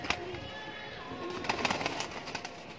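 A Kasuri pigeon coos softly with several low, rolling calls over a hissy background, with no talking.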